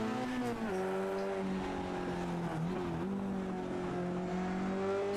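A Mazda MX-5 in a sim racing game at Okayama International Circuit, its engine whining steadily, then downshifting to second gear with quick dips in pitch before climbing back under throttle, loud and close.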